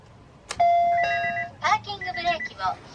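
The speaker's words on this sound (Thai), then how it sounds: "อันเนี้ยมันเป็นเสียงแจ้งเตือนให้เราคาดเข็มขัดนิรภัยนะฮะ" Seat belt reminder chime in a Honda Civic coupe fitted with an add-on alarm sound box: a bright electronic chime rings out near and clear, followed by quick tonal notes and voice-like electronic sounds.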